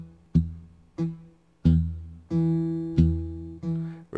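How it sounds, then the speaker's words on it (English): Fingerstyle blues guitar picking an alternating bass pattern, played alone and up close: six or seven plucked notes at a steady, even pace, each ringing out and decaying before the next. "This time we're going to do alternating bass"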